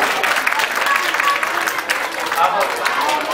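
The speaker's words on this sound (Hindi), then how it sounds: "एक बार सभी बच्चों के लिए जोरदार तालियों से आप इनका अभिनंदन करें।" An audience at a children's stage play performance applauds vigorously, a dense burst of close clapping with uneven surges throughout.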